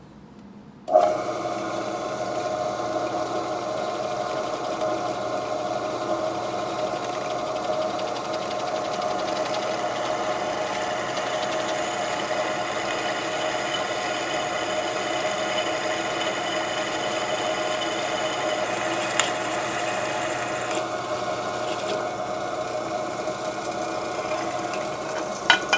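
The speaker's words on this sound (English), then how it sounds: "Now we're going to take this over the drill press and drill it out." A drill press bores out a hole in a drum brake shoe for an International pickup, its motor running as a steady, close, continuous whine and hum for about 25 seconds, with a couple of sharp clicks near the end.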